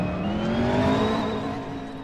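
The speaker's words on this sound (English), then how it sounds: "Car's too loud." A loud race car engine roars steadily at close range with a slowly rising pitch, heard during a GTI feature race at the Hoosier GP. No one speaks.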